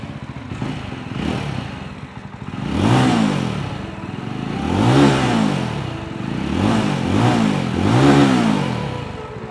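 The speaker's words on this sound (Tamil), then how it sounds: "வண்டி ஓட்டும்போது எக்ஸாஸ்ட் நோட் கேட்கறதுக்கு" A Jawa 350 motorcycle exhaust revs repeatedly, the engine note rising and falling in several throaty bursts, loud and close with a steady idle between.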